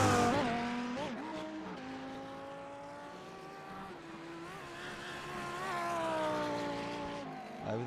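Racing kart on its final lap at Oran Park, New South Wales, a high buzzing engine rising and falling in pitch through corners and curbs, sustained and close throughout with no voices.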